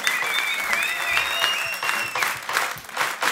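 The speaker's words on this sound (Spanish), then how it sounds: "Eso, griterío, arrepétale." Steady audience applause with cheering at a live music show, continuous clapping and crowd noise throughout, with a few high shouts or whistles riding over it.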